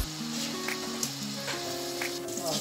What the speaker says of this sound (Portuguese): O bacon já tá fritinho.